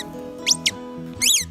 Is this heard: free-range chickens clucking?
no